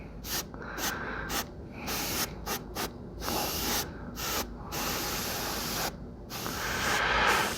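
Short controlled bursts of ink sprayed from an airbrush onto a BattleTech miniature, a series of close hissing puffs separated by brief gaps, ending in a longer steady spray.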